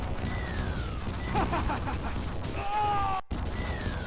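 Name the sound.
gunfire destroying a tank in the video game Guerrilla War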